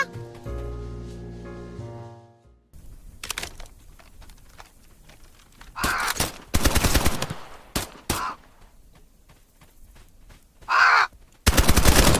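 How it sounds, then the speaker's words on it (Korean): Crows cawing in a video game, several harsh caws in short bursts alongside sharp gunfire-like bangs, with a tonal musical passage at the start and quieter stretches between the bursts. "까마귀 죽이러 가?"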